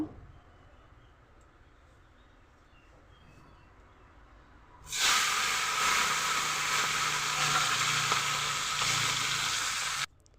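Small fish such as khoyra and maya, dropped into hot oil for a tomato chorchori, set off a sudden loud, steady frying sizzle after a quiet start, which holds close and even and then cuts off abruptly.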